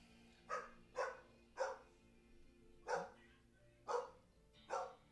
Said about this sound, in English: That's our dog sound effects.